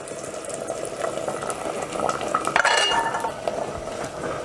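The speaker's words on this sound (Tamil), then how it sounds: "இப்போ நம்ம பாகு காய்ச்சி வச்சுருந்ததையும் வடிகட்டி பொங்கலில் ஊற்றிக்கலாம்." Strained jaggery syrup is poured into a pot of sweet pongal, giving soft liquid splashing and faint clinks of utensils against the pot, close and fairly quiet.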